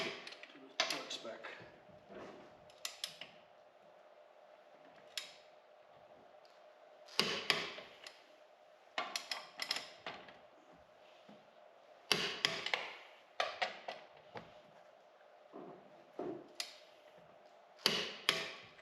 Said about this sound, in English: now they're all torqued to 120 foot-pounds of torque